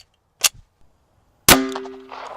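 A single sharp .45 ACP pistol shot fired into stacked tires, a loud crack with a ringing metallic ping trailing after it, preceded by a faint click.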